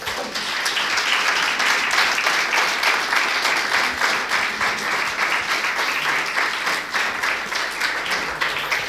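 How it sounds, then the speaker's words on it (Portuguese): A church congregation at an Easter service applauds steadily and loudly for the whole stretch, a dense, sustained wash of many hands clapping with no break. "Damos um aplauso para Jesus."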